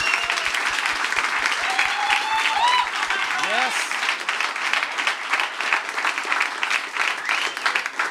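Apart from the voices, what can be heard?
audience applause for podcast guests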